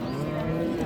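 A calf moos once in a low, sustained, close call at a cattle market selling improved dairy cows and calves.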